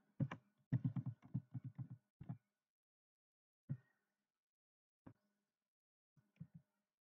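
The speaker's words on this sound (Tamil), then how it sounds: "அட்ரஸ் டைப் பண்ணிட்டு" Typing on a computer keyboard while entering an address into an online school admission form: a quick burst of close key clicks, then a few scattered single taps after pauses, with a quiet background.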